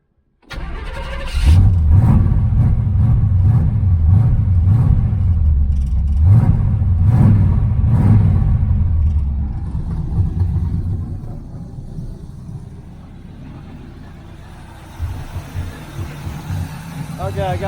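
A 1981 Z28 Camaro V8 fires up and runs loud and rough with rhythmic surging after an electric fuel pump fix, then settles to a lower idle while faint background noises continue.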